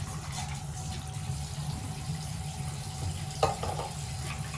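Water runs steadily from a tap while hair product is rinsed out, a continuous moderate splashing flow with a low hum beneath and one small knock partway through.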